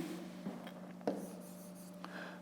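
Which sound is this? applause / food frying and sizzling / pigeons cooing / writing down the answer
writing down the answer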